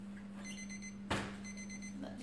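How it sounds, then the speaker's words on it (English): A kitchen timer goes off while chocolate biscuits bake in the oven, sounding two short bursts of high electronic beeping. A brief knock falls between the bursts, all at low level over a faint steady hum. "that is my timer."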